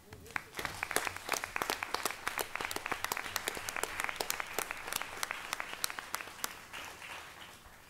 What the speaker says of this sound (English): So let's give Myron a round of applause.